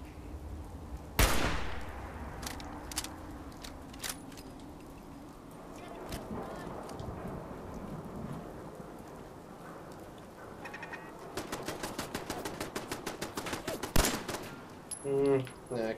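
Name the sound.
turret gunfire in Fallout 4 video game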